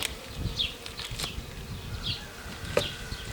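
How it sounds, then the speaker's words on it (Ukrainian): Honeybees hum and buzz softly inside an opened alpine hive nucleus set up for mating two queens, with a steady close drone and a few louder individual buzzes passing by. "Відкриваю вулик, дивлюся, що тут з нашими бджілками"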